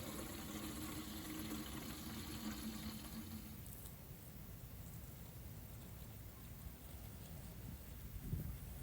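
Steady, soft splashing and trickling of water poured onto dry potting soil in pots for blackberry and raspberry cuttings outdoors on a cold winter day, continuous and fairly faint throughout.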